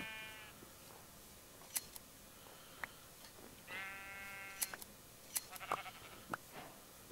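Sheep bleating in the Minecraft video game, a few short, faint calls scattered across quiet in-game ambience with occasional clicks.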